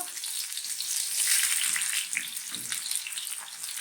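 Sliced medium-sized onions sizzle steadily in a hot pan, a bright continuous frying hiss with a few soft low stirring knocks, close and fairly loud with no voices.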